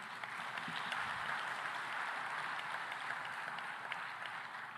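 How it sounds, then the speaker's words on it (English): Audience applause at a youth town hall during a food security summit in Tanzania, a steady wash of many hands clapping at moderate distance for the full few seconds, with no speech over it. "So a warm round of applause to Tanzania for their fantastic hospitality."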